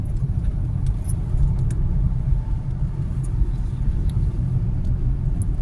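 A car drives along a winding ghat road through hills and forest, a steady low engine and road rumble sounding close and continuous, with faint jangling rattles above it and no talk.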